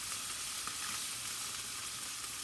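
Flounder sears in a pan in a home kitchen, giving a steady, soft hiss and crackle of sizzling oil with no voices.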